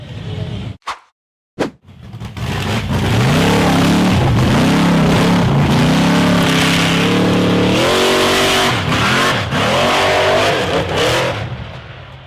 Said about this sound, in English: The orange and silver buggy accelerated up the slippery, muddy slope